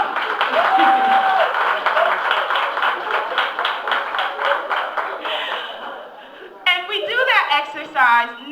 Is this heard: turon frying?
no